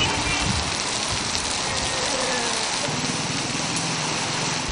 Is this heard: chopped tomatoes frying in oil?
no